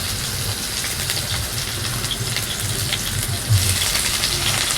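Hot oil sizzles steadily for a beetroot stir-fry tempering with dried chilli and curry leaves, a dense, close crackling hiss that holds throughout with no talk.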